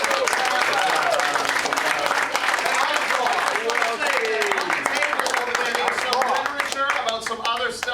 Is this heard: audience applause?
yes